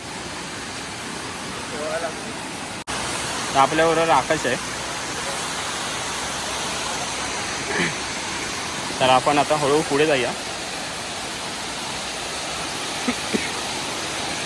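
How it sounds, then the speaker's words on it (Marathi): A steady rush of falling water from a waterfall near Dapoli, Ratnagiri, fills the background throughout while people talk over it in short bursts. "आता आपण पोचलेलो आहे धबधब्याच्या इथे"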